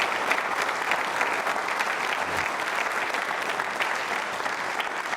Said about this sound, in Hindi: ऐसी शख्सियत के सम्मान में तालियां जोरों से बजाइए आप